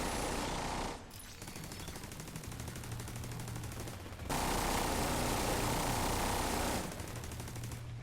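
Warhound enemy machine gun fire in a shooter video game, a loud continuous rattling burst that runs almost the whole time, briefly dropping off near the start and swelling stronger midway.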